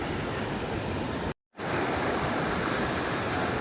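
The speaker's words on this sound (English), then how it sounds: "the creek is just crystal clear and flowing beautifully" A crystal-clear creek runs among massive boulders in a jungle setting, making a steady, full rushing sound. The sound cuts out briefly partway through, then the flow continues, loud and unbroken.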